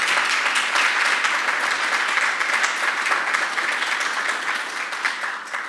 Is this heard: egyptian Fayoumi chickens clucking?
no